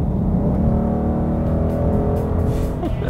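A 2016 Ford Mustang GT with its 5.0 V8 pulls hard from inside the car, a loud, deep engine drone with rising harmonic tones as revs climb, steady and continuous with no talk.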